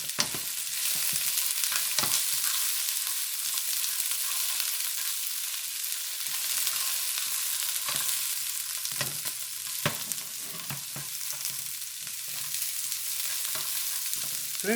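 Carrot and sugar peas stir-fry with onion in a hot pan, giving a steady loud sizzle with scattered crackles and pops and occasional scrapes of stirring, with no talk.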